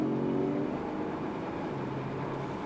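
Engine and road noise from a 2022 Porsche 718 Boxster GTS cruising with its exhaust baffled, a steady, moderate hum with a faint low drone, heard from inside the car.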